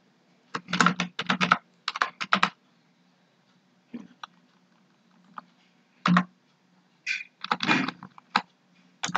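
Code is typed on a computer keyboard in quick bursts of clicking keystrokes separated by pauses, close and fairly quiet, with no talk.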